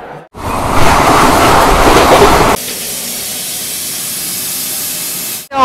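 A Shatabdi Express train overtakes on Indian rails, a loud, close rushing roar of passing carriages that drops to a steadier, lower rumble partway through, with no talking.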